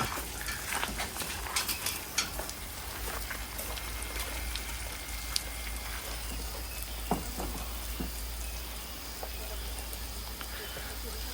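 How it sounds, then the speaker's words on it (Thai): A garden sprinkler hooked up on a roof sprays water that falls like rain, giving a steady hiss of patter with scattered sharper drips throughout, fairly soft and without a break. "สปริงเกอร์ปกตินี่แหละ สปริงเกอร์ที่เราให้ ให้น้ำพวกพืชให้ผักนี่แหละ ต่อสายขึ้นไปบนหลังคา"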